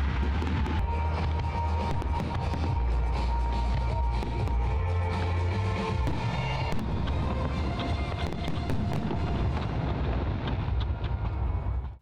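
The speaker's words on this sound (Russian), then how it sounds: "Один из самых масштабных новогодних фейерверков" Dense, continuous crackling and booming of a large New Year fireworks display over Minsk, loud and sustained with a roaring wash of bursts and low thuds.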